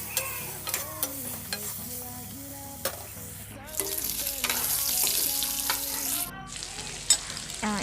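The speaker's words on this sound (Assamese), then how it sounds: "এতিয়া মাংসখিনি অকণ ভাজি ল'ম তেল ওলোৱাই যোৱালৈকে" Boiled pork pieces fry in a pan while being stirred, a steady sizzle punctuated by sharp scraping clicks of the spatula, growing louder and denser midway with a few clanks toward the end and no speech.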